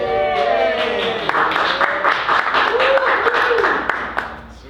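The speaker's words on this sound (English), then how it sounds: "I don't think we normally get applause" An audience claps and cheers at an open mic night at Malvern Books, with dense sustained applause through the whole stretch and a voice speaking over the crowd.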